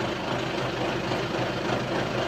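From inside the cab, a Belarus tractor engine drones steadily, a loud, even low rumble that fills the whole stretch without any voices.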